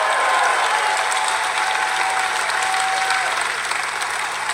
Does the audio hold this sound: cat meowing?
no